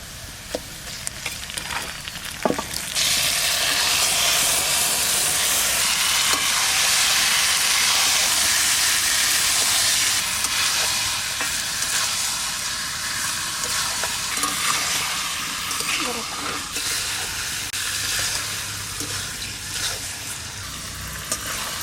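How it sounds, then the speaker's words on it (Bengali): Marinated young goat meat tipped into a pan of fried onions, bursting into a loud, continuous close-up sizzle and hiss that fills the clip, with faint stirring clinks and no talk. "এই মাখানো মাংসটা এবার দিয়ে দিচ্ছি।"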